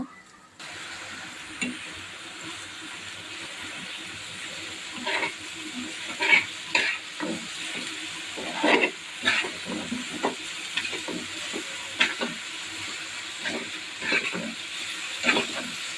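Fish fries with garlic and a little ginger paste in a pan, a steady sizzle overlaid by frequent irregular scraping stirs of the spatula, close up and moderately loud, without voices.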